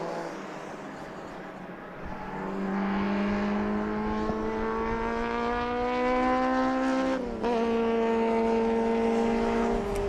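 MG Cup race cars lapping the Brands Hatch Indy circuit, a steady loud engine whine rising in pitch as cars pass close, with a sharp break near the end as another car goes by.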